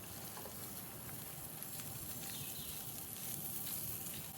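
Sirloin steak coated in garlic and butter sizzles steadily on a FireBox stove, a soft, even crackling hiss that continues without pause and with no one talking.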